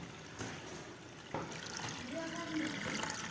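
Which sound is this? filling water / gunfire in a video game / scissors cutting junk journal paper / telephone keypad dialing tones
filling water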